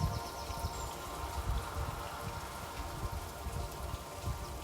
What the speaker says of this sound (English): And as the rain settles down